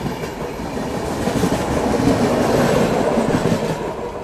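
The Mahanagari Express passenger train runs on rails on the Mumbai to Varanasi route, a loud, continuous rumble with clattering wheel noise passing close by throughout.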